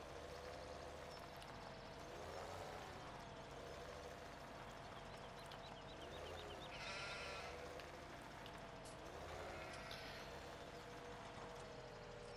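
Sheep bleat on a farm in a farming video game, several wavering calls repeating over a steady, faint background hum, with no talk.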